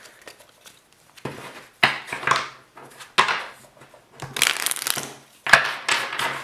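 Tarot cards being shuffled by hand, bursts of riffling and shuffling in irregular rhythm, close and fairly quiet, with short pauses between.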